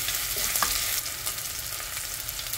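Onions sizzle steadily in a hot pan for pancit bihon, a bright continuous frying hiss with light stirring scrapes, close and without talk.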